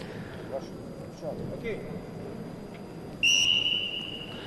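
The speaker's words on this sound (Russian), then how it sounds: "Итак, дается свисток, и у нас начинается схватка" A referee's whistle blows to start a bout at a junior international freestyle wrestling tournament: one sharp, loud shrill blast near the end, following several seconds of arena ambience and a commentator talking.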